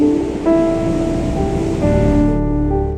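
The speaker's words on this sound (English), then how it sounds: "we took in the sights and sounds of the ocean" Ocean surf rolls onto an Icelandic black sand beach as a loud, continuous wash of breaking waves, steady and close with no voices.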